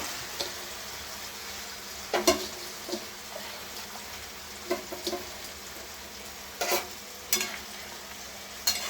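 Fish sizzles in a frying pan at a low, steady level, broken by scattered sharp clatters and louder spits as pieces are stirred and turned.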